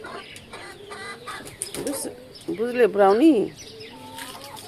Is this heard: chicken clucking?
yes